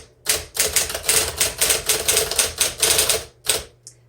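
Typing on a 1959 Smith Corona electric typewriter: a rapid, fairly even run of close, crisp key strikes lasting about three seconds, ending with a short pause and one last isolated tap.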